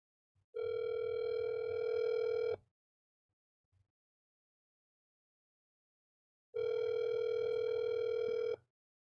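Outgoing phone call ringing over a speakerphone during a tabletop roleplaying cast reunion: two long, steady electronic ring tones separated by a pause of several seconds, clear and alone.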